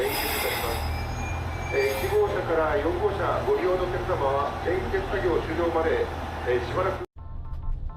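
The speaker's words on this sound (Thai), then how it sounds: "ตอนนี้รถไฟขบวนฮิดะก็กำลังเข้าสถานีนะครับ" Low rumble of the Hida limited express train pulling into Takayama Station, Japan, with someone talking steadily over the rolling noise until it cuts off near the end.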